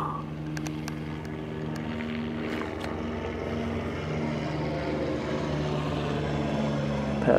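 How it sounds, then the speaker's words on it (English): A helicopter circles overhead, its steady droning buzz holding throughout and swelling slightly louder toward the end, with a few faint sharp ticks from nearby. "we got is a helicopter circling, and you can hear it now."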